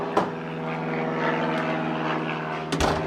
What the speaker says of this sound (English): Whoa, airplane.